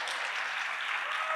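Brief, steady applause from an audience at a comedy show, a dense patter of clapping hands heard on its own for just over a second.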